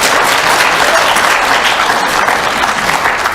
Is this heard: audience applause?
yes